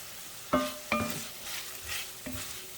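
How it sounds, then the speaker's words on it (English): A spoon stirring White Bean & Chicken Italian Sausage Soup in a Le Creuset Balti dish, with a few distinct metallic clinks against the pot over a soft frying hiss, close and quiet. "Just give that a little stir."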